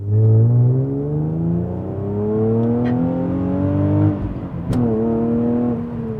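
Infiniti G37s with a Sprint Booster throttle controller on its race setting accelerating hard, engine note climbing through the revs, cutting out briefly on a gear change, then pulling again, loud and close.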